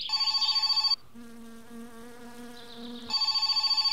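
An old landline telephone rings in My Summer Car with a harsh rapid electric bell trill, two loud bursts separated by a pause, near and with no voices.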